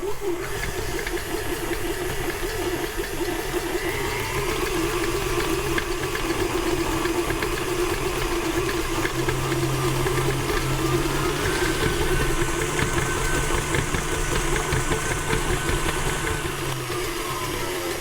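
Electric mixer creaming cookie dough for Portuguese chocolate chip cookies on medium-low speed, a continuous loud motor whir with a steady churning texture, unbroken throughout.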